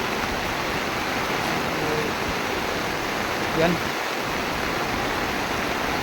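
Steady, heavy rushing of floodwater during heavy rain roars without pause, a dense broadband wash, with a brief murmured word near the end.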